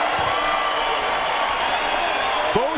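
A boxing arena crowd roars and applauds after the fight, a dense, loud, sustained wash of cheering and clapping with a commentator's voice faintly over it.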